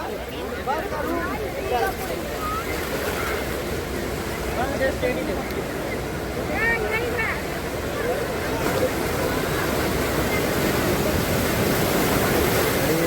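Sea waves wash onto the sandy shore at Nagaon beach in Uran, a constant broad roar of surf that grows slightly toward the end, with a person talking over it throughout.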